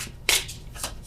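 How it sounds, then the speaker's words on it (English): Tarot cards are shuffled by hand in quick riffling bursts, three short crisp flutters close by, quiet between them, with no talking. "The World card."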